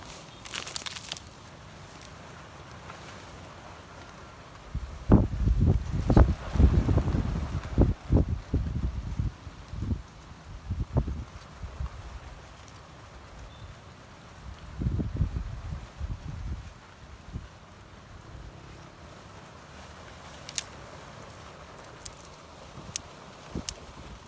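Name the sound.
wind blowing outdoors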